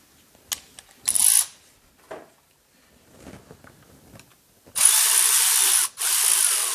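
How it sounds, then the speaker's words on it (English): Hose clamps on a charge air cooler are tightened with a ratchet, giving short bursts of quick metallic clicking up close, scattered handling noises between them, and a longer, louder stretch of ratcheting toward the end. "go ahead and tighten your clamps up good"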